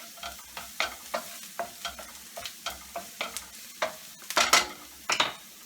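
Chopped garlic fries in a pan for shrimp and sausage paella, with a light sizzle under regular scraping tosses, about a dozen evenly paced strokes, then a few louder clatters at the end.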